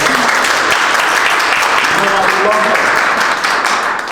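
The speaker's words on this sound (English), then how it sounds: "Let's have a round of applause" An audience at an outdoor Hanukkah menorah lighting in Paterson gives a sustained round of applause, dense and steady throughout with some voices mixed in.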